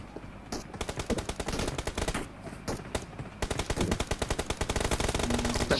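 Rapid automatic gunfire from a gun in the video game BGMI, with loud bursts of closely spaced shots repeating steadily and only brief gaps between them.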